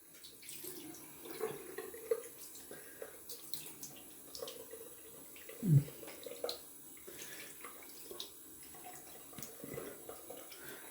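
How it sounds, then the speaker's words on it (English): Cold water runs steadily from a tap into a sink for a rinse after shaving, with small splashes and one louder splash midway and a faint voice at times. "Okay, cold water rinse."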